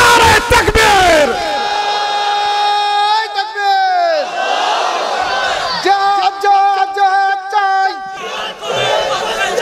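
A large crowd at an Islamic sermon roars a takbir in unison in answer to the preacher's call, a loud, sustained chant of many voices that swells and repeats, echoing through amplified sound.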